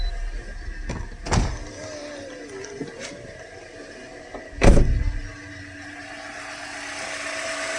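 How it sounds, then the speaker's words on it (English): A 2010 Toyota Corolla engine cranks and catches, followed by a steady idle hum with a few mechanical clunks and whirs nearby. "start the car, see the way it sounds and it feels"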